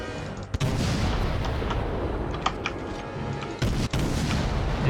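Heavy naval guns of a warship boom repeatedly in World of Warships, a dense, loud roar of sustained artillery with sharper cracks of individual salvos punching through near the start and end.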